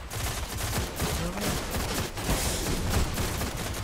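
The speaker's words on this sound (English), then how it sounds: "I'm shooting at nothing." Heavy gunfire in Destiny on PS4, a continuous rattling barrage with loud bursts and distant explosions layered throughout, close and dense with no pause.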